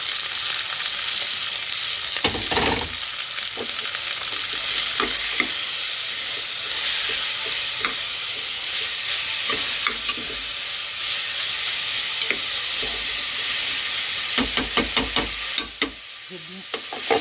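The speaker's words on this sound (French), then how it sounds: "Je vais bien faire revenir l'oignon avec la viande, encore une fois." Onions and lamb meat frying together in a pan for an Algerian tlitli dish, a steady loud sizzle with bursts of stirring scrapes and clinks throughout, close up.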